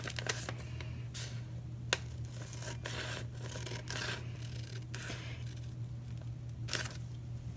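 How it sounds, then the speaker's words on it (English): Scissors cut through folded paper along the crease, giving a series of faint, crisp snips and rustles over a quiet background, with a couple of sharper cuts standing out. "We're going to release one end of this flap by cutting along the fold."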